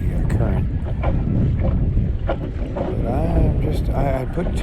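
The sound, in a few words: small boat driven by a Minn Kota 50 motor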